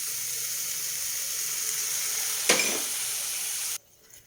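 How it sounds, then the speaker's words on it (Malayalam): Onions sautéing in a pan with salt, turmeric and tamarind water give a steady hissing sizzle, broken by one clattering knock near the end before the sound cuts off to near quiet. "ഒന്നുകൂടെ വഴന്ന് വരട്ടെ."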